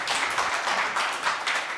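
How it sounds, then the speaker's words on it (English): An audience at a blockchain conference applauds to welcome a speaker to the stage, with steady, moderately loud clapping that fills the whole short stretch. "Thank you for applause."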